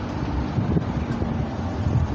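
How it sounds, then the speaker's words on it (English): Steady wind buffeting the microphone, a continuous low rumbling roar with no voices. "It's windy, it's getting ready to storm big"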